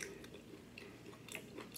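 Crunchy breakfast food is bitten and chewed close to the mic, giving faint, irregular crunches and mouth sounds with no talking.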